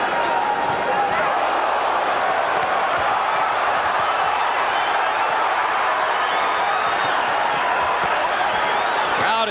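A boxing arena crowd roars steadily throughout a bout between Junior Jones and Marco Antonio Barrera, a dense, continuous wash of cheering and shouting that never lets up.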